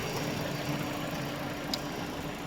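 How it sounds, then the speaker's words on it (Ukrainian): A 2009 Dodge Journey 2.4 engine running on gas idles steadily and quietly, with the gas injectors ticking faintly and fast over the low hum, with no voices. "Ось Послухайте, як працює двигун, там нащолкають е, газові форсуночки."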